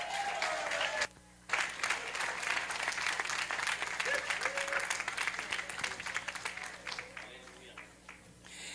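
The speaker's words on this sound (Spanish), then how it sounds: "Aplauso a Inés." A youth gathering of a church congregation applauds for Inés, a broad stretch of clapping that cuts out briefly near the start, then swells and slowly thins, with faint voices underneath.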